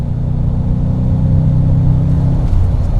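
A 1991 Bentley Turbo R's turbocharged engine pulls hard at full boost around 3,000 RPM, a loud, steady low rumble and whir heard from inside the car.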